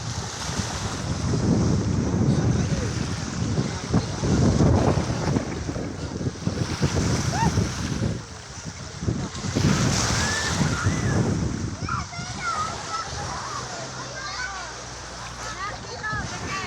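Steady rushing sea breeze buffets the microphone over surf washing along a beach in Lobo, Batangas, loud and continuous, with a voice talking faintly underneath.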